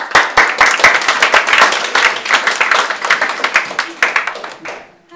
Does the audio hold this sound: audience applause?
yes